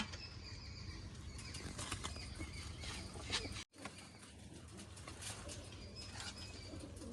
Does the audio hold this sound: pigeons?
yes